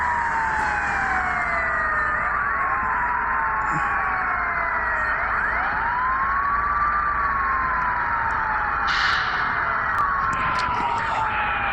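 Police siren in a bus driving video game, several overlapping wailing tones sweeping up and down continuously over a steady engine rumble, loud and close for the whole stretch.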